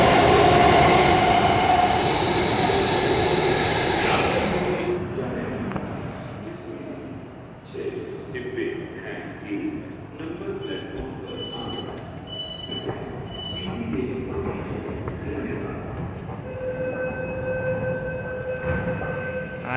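Steady rumble of a Delhi Metro train in motion near Jangpura, loud at first then settling into a constant hum with faint squeals and tones, no one speaking.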